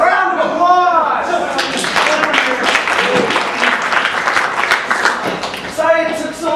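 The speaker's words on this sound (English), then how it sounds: "ladies and gentlemen, a round of applause!" An audience claps and cheers loudly for several seconds, with a voice speaking over the start and end of the applause.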